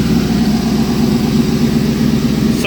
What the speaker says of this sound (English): I finally heard the fans kick on.